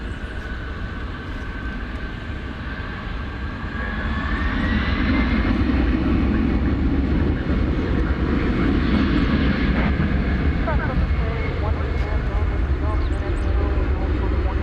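A jet airliner takes off from a runway at DFW Airport at night. Engine roar builds sharply after a few seconds into a loud, sustained rumble with a rising whine, while a voice talks over it.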